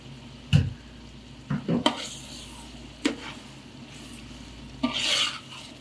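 Biryani masala stirred into soft cooked tomatoes and onions in a pan, with several scraping spoon strokes and a gentle sizzle between them, close and clear.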